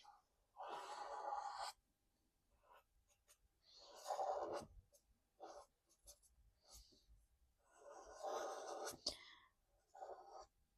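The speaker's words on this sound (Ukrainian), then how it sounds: "Тобто я малюю коло на перетинах моїх ліній." Soft, close scratching of a pen on paper as circles are drawn for neurographic art, coming in several short strokes separated by quiet pauses, with faint breathing in between.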